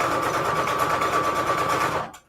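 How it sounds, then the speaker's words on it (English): Sewing machine stitching a paper pocket for a Christmas book-page junk journal, a fast even whir of needle strokes close by that stops abruptly at the end. "I just like to sew, y'all know. I like to sew everything."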